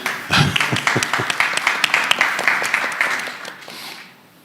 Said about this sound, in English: So, a round of applause for Fabio Valle.